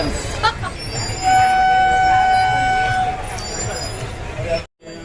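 A hill train on Kailasagiri, Visakhapatnam, rumbles along while a horn sounds in long tonal toots; people talk over the steady rolling noise.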